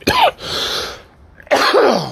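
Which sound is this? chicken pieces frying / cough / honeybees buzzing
cough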